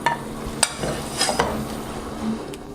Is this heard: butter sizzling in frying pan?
yes